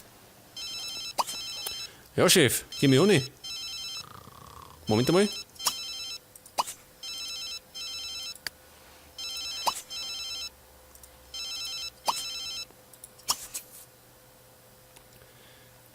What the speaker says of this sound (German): Und das ist das Telefon